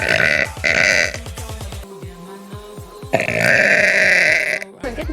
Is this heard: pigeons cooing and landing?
no